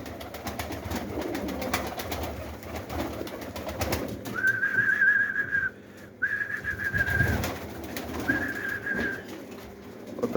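Pigeons and other birds in a newly built aviary, with soft cooing, repeated whistling calls and scattered fluttering over a busy background.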